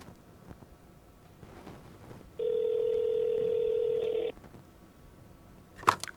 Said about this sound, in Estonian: ma võtan telefoni ja panen valjuhääldile, et kõik oleks teile selgesti kuulda